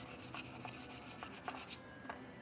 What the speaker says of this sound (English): You can wet sand it too.